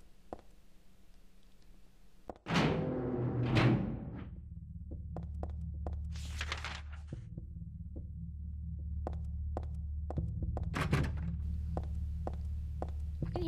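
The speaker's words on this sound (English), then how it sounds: "I can hear a heartbeat." A slow, deep heartbeat pulse throbs steadily in the video game Silent Hill 3, set in a hospital, under a low hum, with a sharp burst of noise near the start and scattered clicks throughout.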